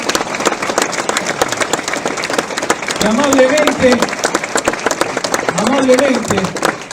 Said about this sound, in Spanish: les pedimos un fuerte aplauso a los compañeros de la asociación